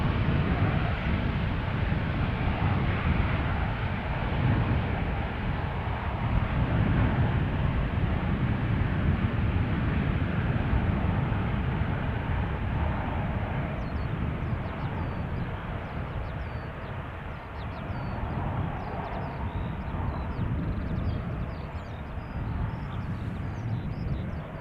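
Airliner thrust reversers at Schiphol Airport give a loud, sustained deep roar that rumbles steadily for the whole stretch with a broad rushing wash, fading slightly toward the end.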